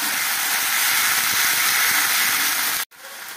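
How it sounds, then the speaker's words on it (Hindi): Ground chili, garlic and cumin paste hits hot fried onions in a pan, giving a loud, steady sizzling hiss that runs unbroken for nearly three seconds, then drops sharply and resumes more quietly. "इसमें हम पीसे मसाले दे देते हैं।"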